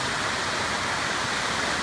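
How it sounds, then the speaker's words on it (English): Steady broadband rush of a waterfall at Pictured Rocks National Lakeshore in Michigan, a constant dense hiss of falling water heard close and loud with no voices. "hard to see the waterfall"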